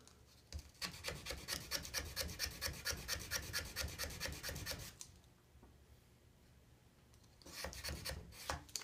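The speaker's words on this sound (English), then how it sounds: "this is a putty knife I'm going to use. I'm just going to get into this plunge just a little bit." A steel putty knife scrapes along the plunge of a hand-rubbed McCullen knife blade, a dense run of rapid, rasping strokes close by, then a pause and a second short burst of scraping.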